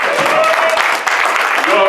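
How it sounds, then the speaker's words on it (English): Conference audience applause during an afternoon session, a loud, close wash of clapping with voices cheering and talking over it. "let's give them a round of applause."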